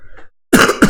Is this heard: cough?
yes